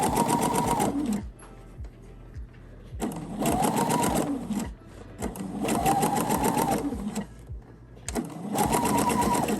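A sewing machine runs a rolled hem using a hemming foot, its motor humming and rising in four long, loud sewing bursts with quieter pauses between them, close and without talk.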